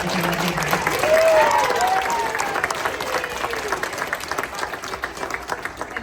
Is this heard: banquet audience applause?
yes